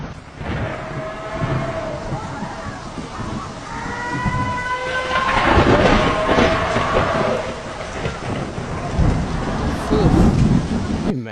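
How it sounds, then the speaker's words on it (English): A tornado roars with a loud, sustained rumble like a freight train, its broad noise swelling over about eleven seconds, with horn-like tonal sounds and wind-driven hiss rising and falling throughout. "Here's some footage of one of those tornadoes, and they always talk about the noise. Like a freight train."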